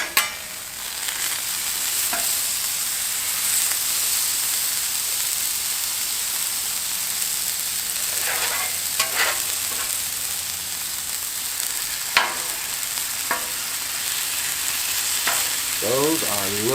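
Pork chops on a Blackstone griddle sizzle in a steady, loud hiss, broken by occasional spatula scrapes and clanks as they are flipped, close and continuous.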